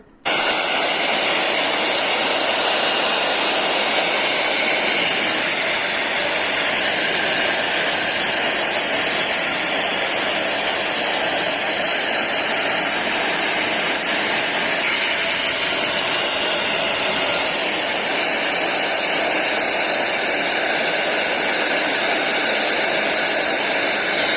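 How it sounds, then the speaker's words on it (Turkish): A hair dryer blows steadily and loudly at close range while heating adhesive film on a kitchen cabinet door, a constant whooshing roar with no talk. "Saç kurutma makinamızı çok fazla yaklaştırmıyoruz ve çok e, zarif davranıyoruz."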